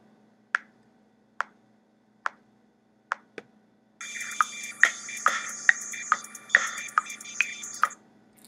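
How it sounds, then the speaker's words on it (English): Metronome clicks: a sparse, steady count-in of single sharp ticks, then a second metronome takes over with a brighter, busier click pattern over a faint background hum. No talking. "And then that metronome is going to drop, and my other metronome will pop in."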